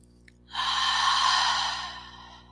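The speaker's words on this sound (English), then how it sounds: "Exhale through the mouth." One long breath is exhaled through the mouth during a meditation, a soft airy whoosh that swells quickly, holds and then fades slowly, close to the microphone with no talking.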